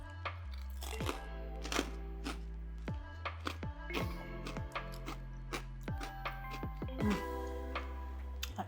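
A knife cuts through crunchy roast pork belly, giving a quick series of sharp, close cracks and crackles at an irregular pace. No one speaks while it crunches.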